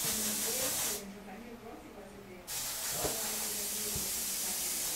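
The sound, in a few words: spraying a fine mist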